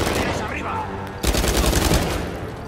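Machine gun fire in the video game Uncharted 4, rapid bursts of gunfire that grow louder and denser partway through, with a voice faintly underneath.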